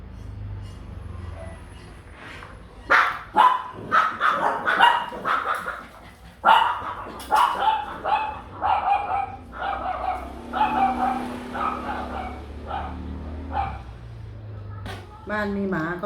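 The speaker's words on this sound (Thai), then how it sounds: "ใครผ่านหน้าบ้านวิ่งไปเห่า แสบแก้วหูหมาปอมนะ" A Pomeranian at home barks in sharp, high-pitched bursts, loud and close, repeated in clusters over about sixteen seconds with brief pauses and a rapid flurry near the end, while someone talks in between.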